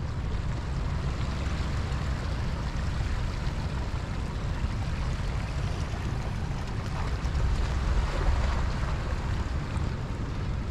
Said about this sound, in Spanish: Está subiendo la marea ahorita y ahí donde está parado casi ahí va otra vez, así le va a entrar